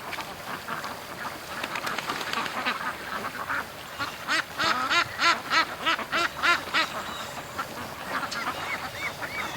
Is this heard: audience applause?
no